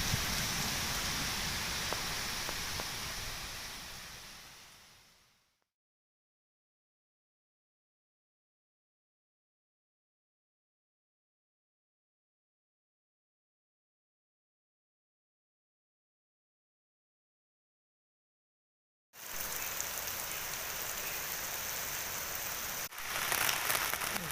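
Heavy rain pours down with wind, a steady dense hiss of drops on surfaces for about five seconds, then silence, before the downpour returns just as loud near the end.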